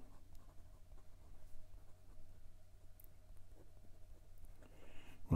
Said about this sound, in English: and some reverse writing.